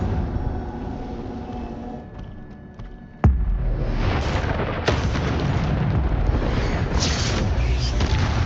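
Incendio fire spell cast in Hogwarts Legacy: a sharp burst that cracks out of a low rumble, then a sustained roaring whoosh of flame with a second crack, loud and full, no talking.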